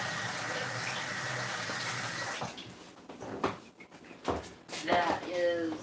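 Cold tap water runs into a pot for boiling eggs in a home kitchen, a steady hiss that gives way to uneven splashing and gurgling as the pot fills, moderately close and fairly soft.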